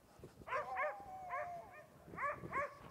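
Sled dogs at a polar expedition camp bark and yip in short pairs of high, excited calls with a brief whine between, moderately close and alone against quiet background.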